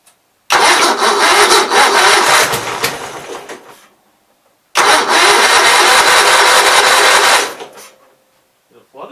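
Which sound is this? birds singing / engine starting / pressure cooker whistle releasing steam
engine starting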